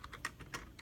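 Someone types on a computer keyboard, a short burst of several separate key clicks with uneven spacing, close and fairly quiet, with no talking over it.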